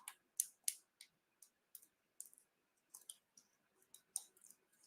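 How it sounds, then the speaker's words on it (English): Paper backings peeled off foam dimensionals for a Halloween cauldron card, heard as a series of short, crisp rips and clicks at an uneven pace, close and fairly quiet, with no talking. "Let's get these paper backings off."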